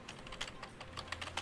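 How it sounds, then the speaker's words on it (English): Quick, uneven clicks from a mechanical computer keyboard, typed in short bursts at a moderate distance in a quiet room, with no voices. "mechanical keyboards are notoriously loud"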